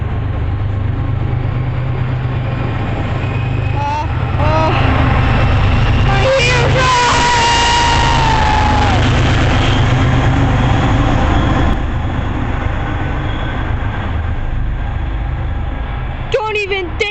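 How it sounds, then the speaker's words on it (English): An MBTA commuter rail train passes very close and loud at JFK/UMass station, a sustained heavy rumble with screeching wheel squeals and metallic rattling throughout, while a person reacts in the background. "Don't even think about bursting my eardrums ever again, train."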